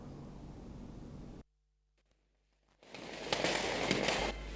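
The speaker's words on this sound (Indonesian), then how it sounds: "Kembang api semakin banyak menghiasi langit Denpasar" New Year's Eve fireworks over Denpasar, Bali, with loud crackling bursts and a dense hiss of distant explosions, then a short silent gap before the bright, noisy barrage starts again.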